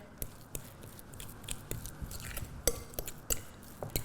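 Flavoured butter mixed with mustard in a bowl gives soft squishy stirring and light clinks of a utensil against the bowl, in an irregular quiet rhythm.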